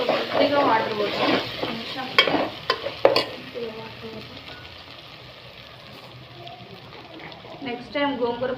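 Gongura chicken sizzling in a pan as water is poured in and stirred, with scraping stirs and bubbling frying noise under a voice talking, the sizzle easing toward the end.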